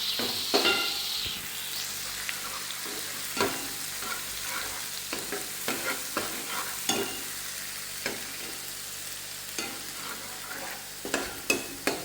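Cluster beans (gavar) sauté in oil in a pan with a steady close sizzle punctuated by repeated scraping stirs at an irregular rhythm, with no voices.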